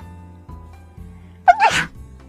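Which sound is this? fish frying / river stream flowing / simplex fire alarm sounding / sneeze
sneeze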